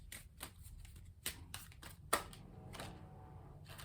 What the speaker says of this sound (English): I will shuffle, but I do believe that is it.